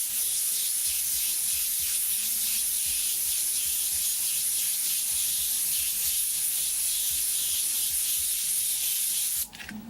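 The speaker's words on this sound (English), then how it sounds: "we're just going to spray right over top of that stencil" An airbrush sprays red oxide paint over a stencil in a steady, close hiss that runs continuously and then stops abruptly near the end.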